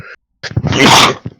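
One loud, close sneeze bursts out after a short silent pause, a sharp breathy explosion followed by a brief trailing sniff.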